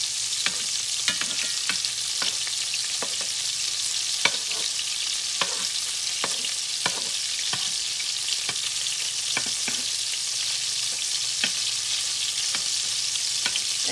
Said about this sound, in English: you can see that ground beef is cooking out more grease